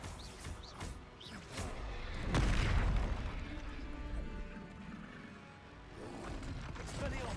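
A spell explosion in Hogwarts Legacy: one heavy magical boom bursts out near the middle, surrounded by a dense, continuous wash of game effects and rumble.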